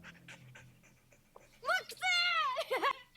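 An animated puppy in the Spy x Family anime whimpers and pants in high, wavering yelps near the end, following quieter talk and soft background sounds.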